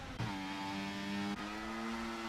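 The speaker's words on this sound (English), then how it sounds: "So there's a car going slow." Historic racing car from the HRA Division 1 race at Silverstone, idling and rolling slowly, a steady low engine drone with harmonic hum, a brief dip in revs midway, close and continuous.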